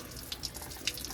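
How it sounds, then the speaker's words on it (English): Water running through a ruptured oil cooler from a 6.0 engine, a steady close splashing flow with a couple of brighter spatters, alone without talk. "run some water through it"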